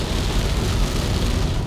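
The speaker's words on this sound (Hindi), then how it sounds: "मैक्स बारिश" Dense, steady hiss of rain falling on a surface, loud and continuous with no voices.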